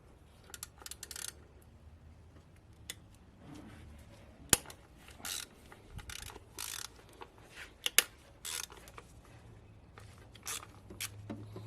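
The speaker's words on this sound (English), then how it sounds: "Now what you do is remove the fastener that holds down the coil pack." A ratchet works on the fastener holding down a coil pack on an Infiniti G35 / Nissan 350Z, with quiet intermittent clicking bursts, a couple of sharp metallic ticks, and faint tool clatter in between.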